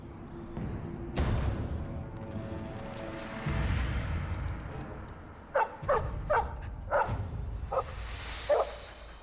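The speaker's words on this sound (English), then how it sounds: "Is that the same dog?" A dog in the video game Dragon Age: Origins barks a few times near the end, short sharp yips spaced out against a murky background of game ambience, after earlier low rumbling and a whimper-like sound.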